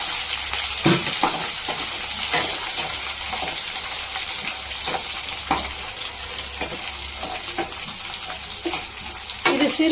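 Chopped garlic sautéing in oil in a pan for Karaikudi-style fish kuzhambu, a steady close sizzle with scattered crackles and spatula scrapes throughout.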